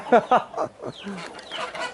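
Domestic geese call near the Geumoji reservoir car park below Geumo Mountain, two loud honks close together and then quieter, scattered calls, with people chatting nearby.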